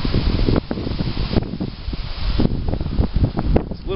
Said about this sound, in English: It's a little bit windy. I don't know if you can tell.